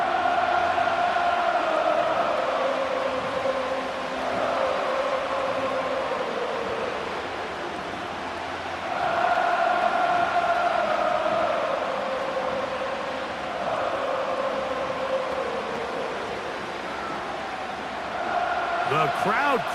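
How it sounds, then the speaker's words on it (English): Loud football stadium crowd noise swelling late in a Buffalo at Kansas City game, with a roaring, surging wall of cheering that rises and falls in waves. A commentator talks over the crowd. "The crowd cranking it up another notch before third and long"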